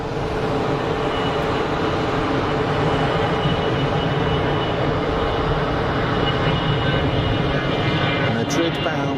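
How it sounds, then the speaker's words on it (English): An Iberia Airbus A320 bound for Madrid takes off at Geneva Airport: a loud, steady jet roar fills the whole stretch without letting up. "Iberia rolling for departure"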